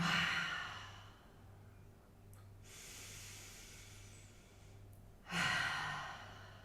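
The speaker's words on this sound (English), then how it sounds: "Breathe in hard and exhale." Two deep, breathy inhale-and-exhale cycles from a yoga breathing exercise, the second exhale forceful and loud, close to the mic with a low steady hum beneath and no talking.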